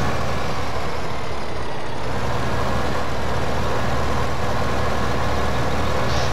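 A tractor engine runs steadily in Farming Simulator 2015 on an American farm map. The heavy, droning rumble stays loud and constant throughout, with no talking.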